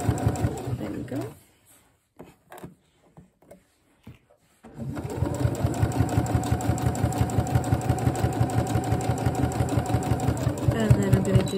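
A sewing machine runs in a steady, rapid stitching rhythm while sewing a curve on a dress, loud and close; someone talks before it starts, with brief fabric handling in a quiet pause.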